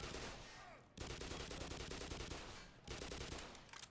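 A mounted machine gun in Black Mesa fires long, rapid sustained bursts, loud and close, with brief breaks between them and little else audible.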